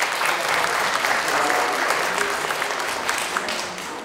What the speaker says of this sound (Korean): 여러분, 박주석 교수님을 큰 박수로 맞아주시기 바랍니다.